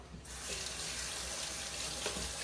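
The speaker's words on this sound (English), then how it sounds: "Let me wash my hands again." Hands are washed under a running kitchen tap, giving a steady, close rush of water with slight splashing changes throughout and no talking.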